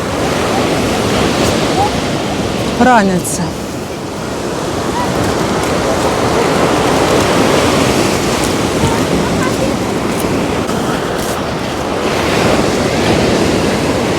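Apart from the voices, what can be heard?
storm waves on the Black Sea at Chornomorsk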